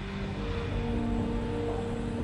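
Steady broadband roar of aircraft at Dallas-Fort Worth International Airport, a busy hub, with a continuous engine drone and faint tonal hum holding level throughout, no voices.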